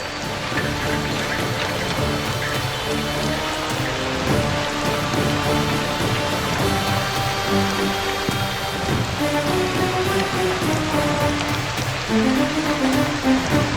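Rain falls steadily at night, a loud, even patter on surfaces with faint low rumbles, and no voices.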